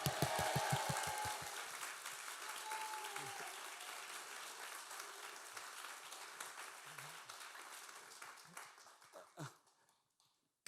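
A church congregation applauding at a New Year revival service, dense clapping that starts loud and gradually thins out, ending with a few scattered claps before silence.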